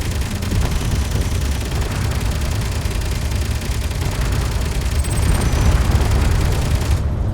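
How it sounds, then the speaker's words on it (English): Sustained gunfire and explosive booms in the space game Space Engineers, a dense continuous barrage with debris flying, steady and loud throughout, ending abruptly near the close. "Why are you shooting at me?"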